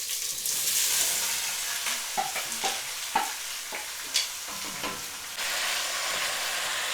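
Mexican-style zucchini calabacitas hit a hot pan and sizzle continuously, with a run of sharp scraping and stirring clatters from a utensil against the pan, the hiss swelling again toward the end. No one speaks.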